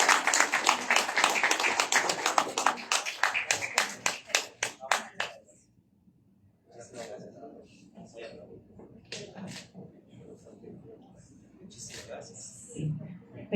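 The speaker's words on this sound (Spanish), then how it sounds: "Muchas felicidades, un aplauso por favor" Clapping from an audience at a university presentation on World Class Manufacturing in environmental management, a loud flurry of claps that thins to a few scattered ones and stops, followed by quiet talking and room noise.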